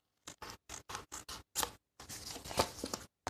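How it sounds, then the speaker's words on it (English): Scissors trim paper in a quick run of about seven close, crisp snips, then one longer cut and a final snip, with no talking. "I'll just trim it with the scissors"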